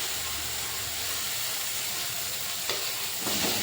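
Green chili and Kashmiri red chili powder sizzling in hot oil for a vegetarian potol dalna, a steady close hiss of frying with a brief stirring scrape near the end and no talking.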